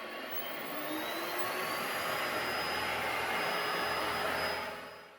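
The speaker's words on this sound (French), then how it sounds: "l'aspirateur du coup se dirige directement vers les saletés et va adapter la puissance d'aspiration" An Ecovacs Deebot X1 Omni robot vacuum cleaner runs with a steady, close, airy suction roar and a thin high whine, holding constant before easing off near the end.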